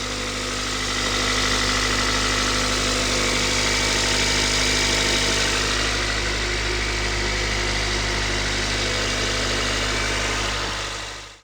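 The 1.8-litre engine of a 2005 Toyota Corolla idles steadily up close for about ten seconds, a constant droning hum with slight mechanical knocking. It stops abruptly at the end and no one talks over it.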